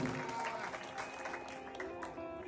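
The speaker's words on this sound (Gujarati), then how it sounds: "એકવાર જોરદાર તાળીના ગરગડાથી વધાવી લો" An audience applauds at a live Gujarati folk dayro, a steady, fairly soft wash of clapping that continues without a break.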